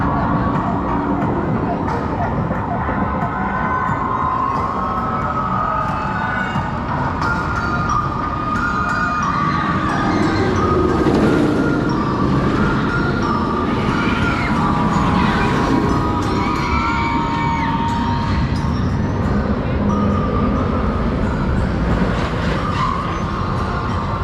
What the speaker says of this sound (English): let's go and give the mine train a go